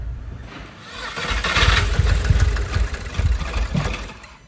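A car engine with misfires, a VW R36 engine swapped into a Scirocco, runs roughly and unevenly, its low rumble pulsing with irregular stumbles and knocks, fairly loud and close, without talk.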